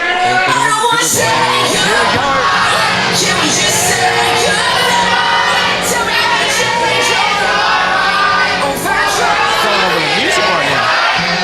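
A packed wrestling crowd at an APW show chanting, cheering and yelling together, loud and continuous throughout with no pause.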